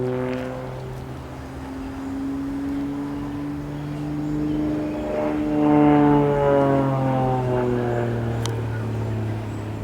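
Electric fan running in a workshop, a loud close hum with tonal bands whose pitch drifts as the blades change speed, steady throughout.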